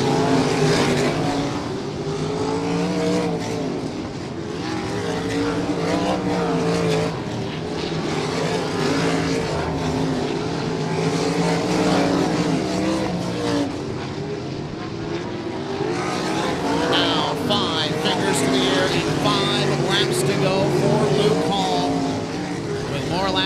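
A pack of race cars laps I-96 Speedway in a GLTS feature race, a steady, dense engine roar with layered droning tones and no clear breaks. A commentator talks over the engines throughout.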